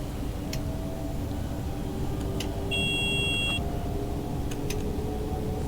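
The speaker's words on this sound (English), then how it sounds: "that beeping is just the CIFA" A CIFA warning beep from a train cab in Train Sim World, sounding as a few short, faint electronic tones over the steady hum and rumble of the running train.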